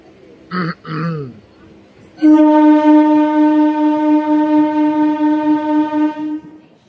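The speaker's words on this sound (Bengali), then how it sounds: "বন্ধুরা আমাদের ট্রেন ছেড়ে দিল।" A local train on the Digha to Howrah line sounds a long, loud horn blast lasting several seconds as it departs, just after a brief voice or throat sound.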